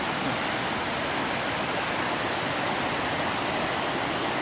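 Kurokuma waterfall in the Shirakami mountains of Aomori pours down in a dense, steady roar of falling water, broad and constant with no breaks, heard alone with no voices.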